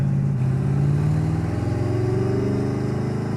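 A 1200 wheel-horsepower Hyundai Genesis coupe engine, turbocharged with boost gear, drones loudly up close as it accelerates, its low rumbling pitch climbing steadily and continuously throughout.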